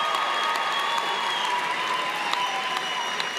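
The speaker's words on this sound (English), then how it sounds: "So, don't worry, there's time for applause" Sustained applause from a large audience at a medical school commencement ceremony, a steady dense wash of clapping filling the hall at even loudness throughout, with no speech over it.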